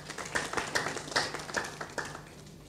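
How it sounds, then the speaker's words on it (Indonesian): Applause from a church congregation during a worship service, a few hands clapping in an uneven rhythm, fairly faint and thin, fading toward the end. "Boleh beri tepuk tangan lagi bagi Tuhan."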